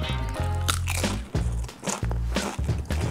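Close, loud crunching bites into cheeseburger nachos made with Doritos, several sharp chip crunches followed by chewing, no talk.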